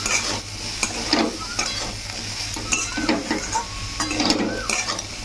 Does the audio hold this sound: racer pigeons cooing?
no